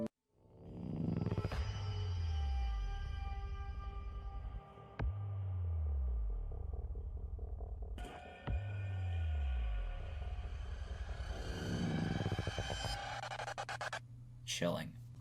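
Mr. X's theme music from Resident Evil 2 Remake, a tense score built on deep pulsing throbs repeating every few seconds under sustained droning tones, loud and steady, ending with a low hum.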